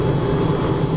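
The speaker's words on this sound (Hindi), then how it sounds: "हेलीकॉप्टर यहाँ से उड़ान भर रहा है" A helicopter lifting off near a wedding procession in Rajasthan, a loud, dense, continuous engine and rotor roar filling the whole moment with no break.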